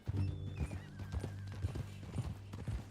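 Horse in Red Dead Redemption 2 gives a sharp whinny over steady clip-clop hoofbeats on a trail, close and moderately loud, with a faint voice underneath.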